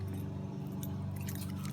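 Keys jangle against the original ignition switch of a Yamaha RD350 motorcycle, a continuous metallic clinking close up over a low steady hum.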